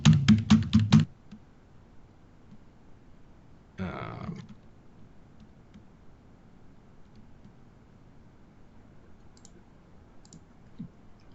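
Someone types dummy card data on a computer keyboard: a quick run of close key clicks, then a single brief second flurry, followed by a quiet room hum.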